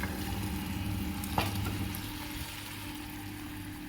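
Ground masala paste for a mutton pepper masala fries and sizzles steadily in a pan as it is stirred. The sound stays close and even, with a soft clunk or two from the utensil.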